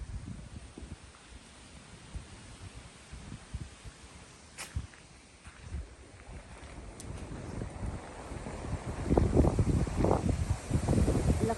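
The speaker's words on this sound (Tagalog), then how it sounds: "Lakas po ng hangin." Strong wind at a purple Fuji flower garden in Japan buffets the microphone in rough gusts that build louder toward the end, with faint water-like rumble underneath.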